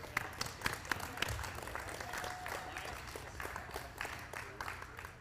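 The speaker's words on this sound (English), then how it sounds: "one last round of applause for Team TERRICK." Applause at a junior women's curling championship, fairly faint clapping from a modest crowd in an arena, with some distinct individual claps standing out at first and murmured voices mixed in.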